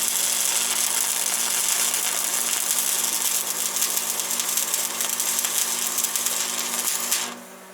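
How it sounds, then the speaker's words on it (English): Lincoln stick welder laying a short stitch weld on a broken wood splitter, a loud steady crackling sizzle that holds for about seven seconds and then cuts out, leaving a low hum. "we're just going to do a little short stitch weld and see if I can get this to weld up or not."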